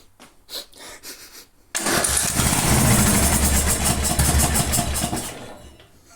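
A Craftsman garden tractor engine catches after a few brief cranking bursts and settles into a loud, steady close-up running drone that holds to the end.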